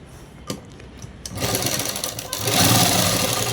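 A sewing machine stitching a shirt: a few isolated clicks, then a rapid, continuous mechanical whirring and tapping that grows louder and speeds up partway through, close to the listener and free of talk.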